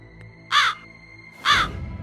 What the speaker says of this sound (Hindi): एक जख्मी कौवा उसके झरोखे पर आकर बैठ जाता है और कांव कांव करने लगता है।